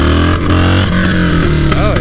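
Yamaha Bolt motorcycle engine roaring loud and close as the rider pulls a wheelie, with a brief rising rev near the end.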